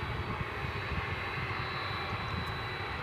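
An airliner approaching DFW Airport at night makes a steady, broad engine roar that holds constant and fairly distant for the whole stretch, with no talk over it.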